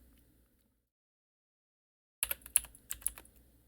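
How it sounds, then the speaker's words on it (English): Computer keyboard typing heard close up: after a stretch of near silence, a quick burst of sharp key clicks in uneven clusters, fairly loud against a quiet background. "Hear the computer sounds."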